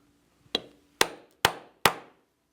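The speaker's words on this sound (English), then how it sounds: "I'm going to use a strap end punch" Strap end punch struck with a mallet to shape the end of a leather guitar strap: four sharp, close, evenly spaced knocks, each with a short decaying ring, in an otherwise quiet room.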